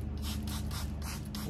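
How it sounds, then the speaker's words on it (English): Spray bottle misting water solution onto custom graphics on a Ford F-150 truck, a series of soft hissy bursts close by, with wind noise outdoors and no talking. "Step 2 is to peel the backing off and spray with water."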